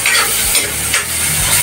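Chopped onions frying and being stirred in a pan, with a steady close sizzle and scraping stir strokes that continue throughout the short stretch, with no talking.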